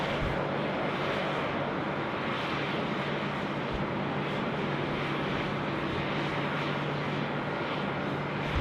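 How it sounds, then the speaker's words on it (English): A Qantas airliner arriving from Perth lands at Sydney Airport, its steady, distant jet roar holding at an even level throughout. "Qantas 6 is just landing from Perth."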